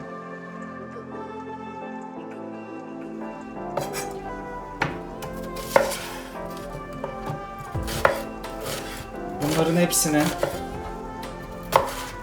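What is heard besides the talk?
chopping vegetables on board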